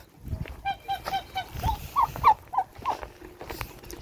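Indian Runner ducks and hens in a backyard flock: a run of short nasal quacks and clucks, several brief calls in a loose irregular rhythm, moderately close, with soft background rustling.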